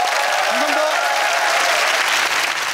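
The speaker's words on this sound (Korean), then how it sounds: "다시 한번 박수 부탁드립니다." An audience claps in a dense, steady wash of applause that carries at an even loudness, with a brief murmur of crowd voices under it.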